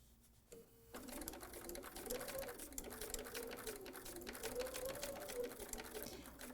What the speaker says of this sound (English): just very carefully sewing from place to slit, all the way down until I complete